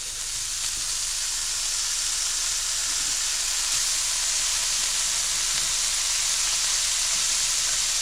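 Bacon lardons fry in a very hot pan, producing a continuous loud hissing sizzle that holds steady from start to finish with no voices.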